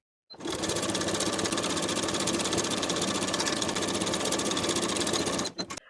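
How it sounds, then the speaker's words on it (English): A sewing machine stitches the inseam of fleece pajama pants, its steady fast needle chatter running loud and continuous for about five seconds before stopping abruptly. "Sew the inseam with a 3/8 inch seam allowance and press the seam open."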